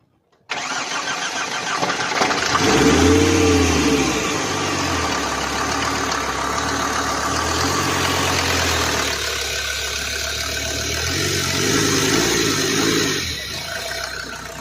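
A Mercedes Sprinter 2.9 diesel engine cranks and fires after a brief silence, then settles into a steady, loud idle close by, with a slight rise in revs near the end.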